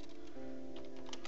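Rapid, light keystrokes on a computer keyboard, a quick irregular patter close by.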